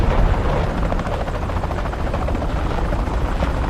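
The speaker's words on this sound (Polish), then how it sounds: "poleciał samolot" Aircraft engine drone from a plane flying past in the War Thunder combat flight game, a loud, steady broadband roar that holds at an even level throughout with no voices.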